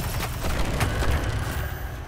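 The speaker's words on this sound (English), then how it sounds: "There goes a nice explosion." Explosion in the video game Destiny 2, a dense rumbling blast with heavy low-end debris noise rolling on for a couple of seconds, fairly loud and close, with no talk over it.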